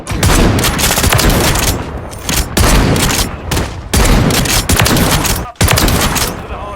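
Call of Duty shotgun fire crashes out in loud, close, rapid bursts of heavy blasts separated by brief gaps, dense and punchy throughout.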